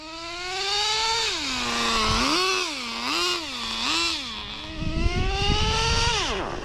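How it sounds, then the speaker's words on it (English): A nitro-powered RC Formula 1 car engine running low on fuel: a loud, close, buzzing whine that rises and falls in repeated revs, then sputters and drops away as it starves. "I think we're running out of fuel"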